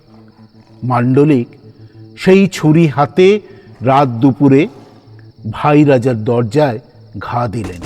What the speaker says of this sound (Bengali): ঝিঝি ডাকছে